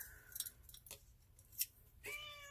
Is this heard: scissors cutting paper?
yes